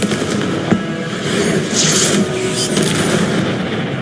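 A Confringo blasting spell explodes in the video game Hogwarts Legacy, a rumbling boom with crackling debris under a busy, continuous battle din, loud and close throughout.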